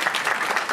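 Steady, close crowd applause for a speech at a traditional Korean wedding ceremony, a brief continuous burst of many hands clapping.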